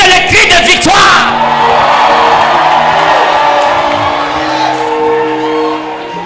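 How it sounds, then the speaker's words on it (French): A church congregation at a revival service erupts in loud shouted cries of victory, a dense burst of yelling and whooping that stays sustained and crowd-wide before slowly easing. "Est-ce que quelqu'un peut pousser les cris de victoire?"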